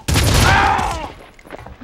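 A single loud burst of gunfire in the Red Faction video game, sharp at the start and fading quickly into quieter game sound.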